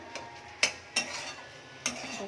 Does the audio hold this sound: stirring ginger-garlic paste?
yes